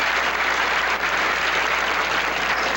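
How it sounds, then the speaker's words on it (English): An audience at a 1981 pro bowling tour match breaks into steady, dense applause, continuous clapping that fills the whole stretch with no voices over it. "But round of applause,"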